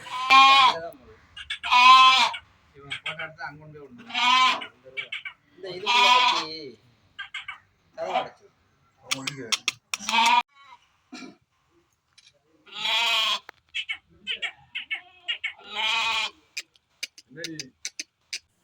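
Young Ettayapuram goat kids bleat repeatedly in a close, busy chorus of wavering cries, with a few coughs and brief pauses between calls.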